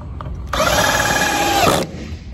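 A power drill whirs loudly for about a second as it drives a screw into wood, starting abruptly and stopping, with quiet room noise around it.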